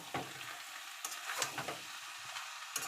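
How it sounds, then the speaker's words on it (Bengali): Boiled mixture, lentil-like with other boiled ingredients, stirred in a pan over low heat gives soft scraping strokes and faint sizzle, spaced irregularly, close and quiet with no talk. "এবার এটাকে সমানে নাড়তে হবে স্টিম কমিয়ে।"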